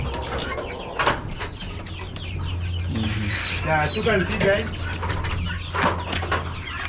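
Chickens cluck and call near their water drinkers on a farm, a steady mix of clucks and short calls close by, with people talking over them.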